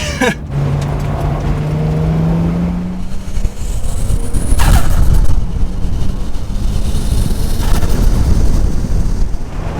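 Nissan Stagea with a turbo engine being revved, a loud idle rumble rising into revs with whooshing air and a fluttering release as the throttle lifts, close and without talk.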